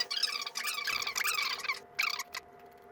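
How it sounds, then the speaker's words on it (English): Fingers tap out a long license key on a small keyboard or keypad for a spectrum analyzer, a quick run of light, close clicks in short irregular clusters with brief pauses, quiet and alone. "I have a very long license key here that I need to type into the device"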